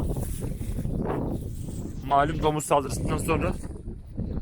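Low, rumbling gusts of wind buffet the microphone while someone talks over them.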